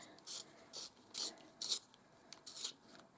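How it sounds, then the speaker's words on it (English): Lip liner pencil twisted in a small sharpener, giving six quick, close scraping rasps in an uneven rhythm with short quiet gaps, soft and dry, with no one talking. "I might have to sharpen it first, actually."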